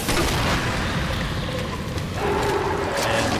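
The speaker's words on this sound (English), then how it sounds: "Now we have a couple of the tree monsters. Hit them with flame rounds." Flame rounds fired at tree monsters in Resident Evil 2 on PC, heard as heavy booming blasts with a dense, rumbling burst at the start and a roaring, crackling tail of fire that fills the whole moment.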